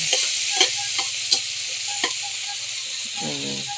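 Chili peppers frying in a pan, a bright continuous sizzle with regular scraping strokes of stirring and a low hum underneath, ending in a rattling clatter.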